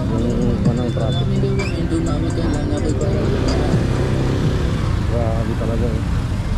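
Road traffic in the town of Calamba, with a steady, dense wash of car and motorcycle engines passing close by and people talking over it throughout.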